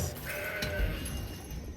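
Mountain goat bleating in the card game Legends of Runeterra, a short nasal bleat over a steady game soundtrack, fairly quiet and alone without talk.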